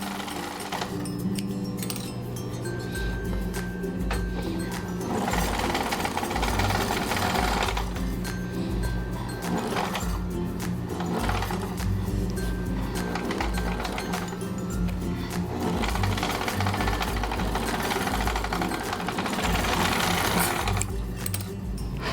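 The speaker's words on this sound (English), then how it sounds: "I decided at this point to serge the remainder of the seams" A serger runs steadily, sewing the seams of a coat made from a damaged quilt, a loud, close, continuous mechanical whir with a few brief pauses and changes in speed.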